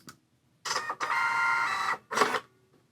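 A Brother QL-700 label printer runs a label job: short bursts of mechanical whirring with a pause, then a longer steady feed lasting about a second, then a final brief burst, close and clear with no talk.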